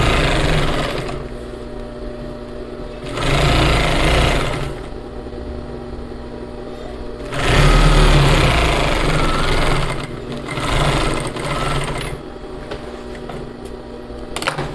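A sewing machine closes the side seams of a flared skirt in several long runs of steady, loud whirring, separated by brief quieter pauses.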